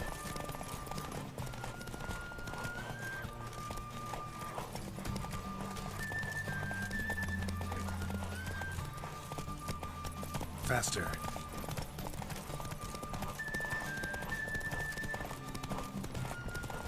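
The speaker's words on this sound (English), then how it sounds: "Don't spare the horse!" A horse gallops in a race in the video game The Witcher 3, its steady hoofbeats running beneath game music, voices and an occasional whinny.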